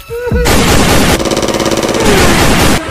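Heavy gunfire erupts right after a shouted command, a loud continuous burst with rapid rhythmic shots in the middle, then cuts off abruptly near the end.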